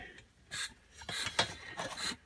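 Several rough scraping strokes, close by, a rasp dragged across hardened Bondo body filler, coming in short bursts with brief pauses between.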